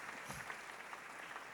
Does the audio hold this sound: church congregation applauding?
yes